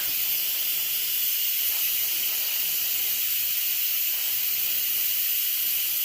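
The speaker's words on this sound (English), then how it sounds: "Letting the steam out so they don't overcook." Steam hisses steadily out of an oven while potatoes and parsnips bake, a constant bright, airy rush that holds alone at moderate level from start to finish.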